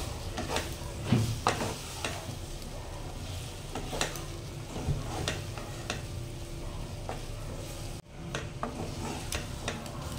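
Fried chicken being stirred through melted butter and garlic in a pan, with soft scraping strokes and clinks over a faint, steady sizzle, close and fairly quiet with no talking.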